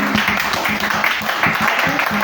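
A church congregation claps and cheers together in a dense, close burst of applause that fills the whole short moment.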